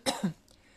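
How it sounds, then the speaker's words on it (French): A woman gives a short, close cough, two quick rough bursts like clearing her throat, then quiet. "Je suis désolée de tousser"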